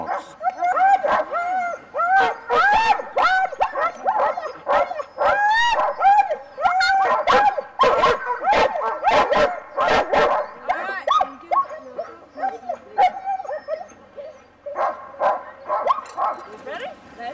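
Sled dogs at a dog sled race bark, yip, whimper and howl in a loud, overlapping chorus of near, repeated calls with brief lulls.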